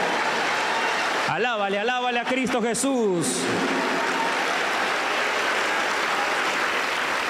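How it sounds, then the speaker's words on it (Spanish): Steady rhythmic hand clapping from an evangelical church congregation praising Christ, loud and continuous throughout, with a voice singing over it for a couple of seconds. "Con libertad a Cristo, fuerte las palmas."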